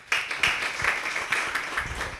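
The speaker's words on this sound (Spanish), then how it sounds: "Les pido un aplauso para Rafael, por favor." An audience applauds a guest on a Spanish-language internet and telecom talk show, with dense mid-distance clapping that holds steady throughout and carries no voices.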